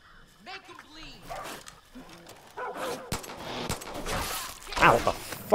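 A dog in the video game Far Cry 5 barks and whimpers amid game effects and crackling gunfire, with a player talking over the noise.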